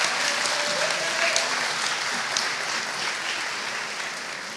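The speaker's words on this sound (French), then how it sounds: "Des applaudissements pour Kerim, s'il vous plaît." Applause at a university graduation ceremony, a dense round of clapping from a seated audience in a hall, loud at first and slowly fading.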